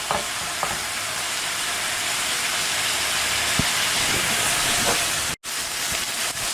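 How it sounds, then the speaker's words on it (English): Chicken fajita strips sear untouched in a hot pan for quesadillas, giving a loud, continuous crackling sizzle with scattered pops, close by and without talk, cut by a brief dropout near the end. "Just let them sear really good."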